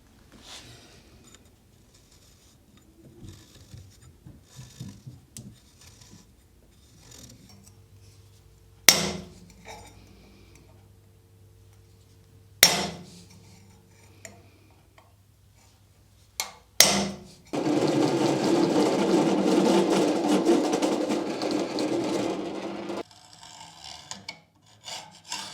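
A metal ring turned from an old part gets speed holes drilled, heard as sharp clanks and scattered handling noises, then a steady rasping drilling burst of several seconds, close and fairly loud.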